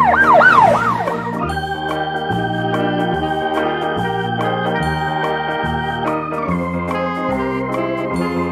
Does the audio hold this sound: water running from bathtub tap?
no